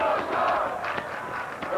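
A large crowd cheers and yells continuously at a boys' high school state track and field final in Charleston, a dense roar with rising shouts as runners race.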